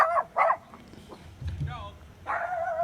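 A small 8-pound chihuahua yaps in a couple of sharp barks with a whimpering whine between them, heard through a played-back police video clip with voices talking around it.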